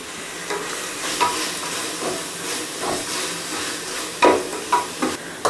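Onions and tomatoes sauté in a pan for chicken vadi biryani, giving a steady close sizzle and hiss broken by a few clinking stirs of a spoon against the pan.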